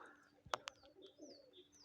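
Domestic pigeons give soft, low coos during a snowy morning, faint and sparse over a quiet background, with a sharp brief flap or click near the start.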